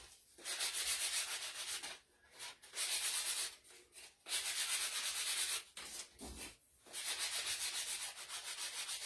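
Paint is sanded off by hand in rough back-and-forth strokes, a loud scratchy rasp in bursts separated by short pauses, with no talking.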